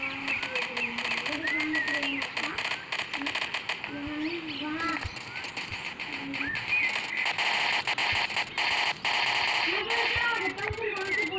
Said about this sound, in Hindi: मेरे को लगता है गोलियां चला रहा है।